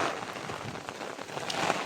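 Monsoon rain falls steadily in a Konkan village, giving a soft, dense hiss with light gusts of wind and no voices.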